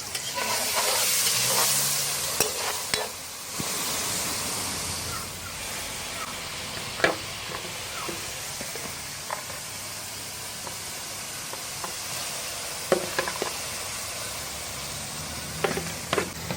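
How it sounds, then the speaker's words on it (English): Ackee and salt fish fry together in a pan with a continuous hissing sizzle, punctuated by occasional scrapes and clinks of stirring, close and steady throughout. "I did the ackee and everything make it fry up together."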